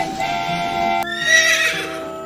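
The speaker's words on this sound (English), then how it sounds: "H for horse." A horse gives a loud, close whinny that rises and wavers for about two seconds, with faint hoof clip-clop beneath it and no talk.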